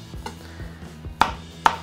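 Knife chopping through dense lettuce leaves on a cutting board during salad prep for a turkey heart dish, several soft rhythmic cuts followed by two sharp, louder chops, close and clear with no talking.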